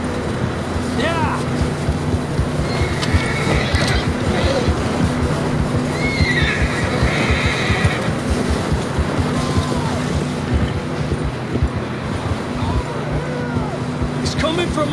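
Horses whinny and neigh in the open-world game Red Dead Redemption 2, with short calls rising over steady outdoor ambience and hoof and movement noise, while voices talk throughout.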